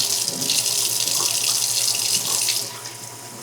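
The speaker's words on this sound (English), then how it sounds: "Rinse them out, make sure there's nothing else." Tap water runs steadily into a sink while coleus cuttings are rinsed, a continuous close splashing hiss that eases off near the end.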